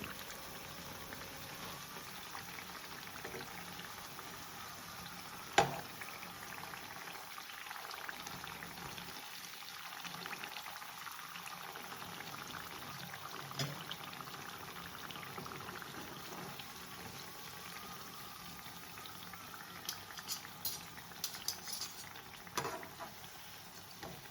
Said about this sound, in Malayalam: രണ്ട് ഭാഗവും ഫ്രൈ ആവുമ്പോൾ നമുക്കിത് കോരിയെടുക്കാം.